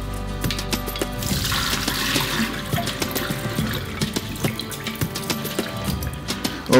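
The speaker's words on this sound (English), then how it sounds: "So I'm gonna go over to my sink and I'm going to strain this off" Water pours and gushes into a kitchen sink as basmati rice is strained through a colander, a continuous splashing rush with some trickling near its end.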